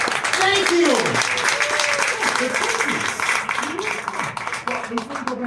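Audience clapping at a live show in Gatlinburg, a dense sustained round of applause with someone talking loudly over it, the clapping thinning slightly toward the end.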